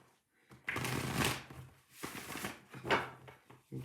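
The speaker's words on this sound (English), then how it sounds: "one more shuffle" Tarot cards being shuffled by hand in quiet indoor surroundings, three brisk riffling bursts with short pauses between them, close and fairly soft.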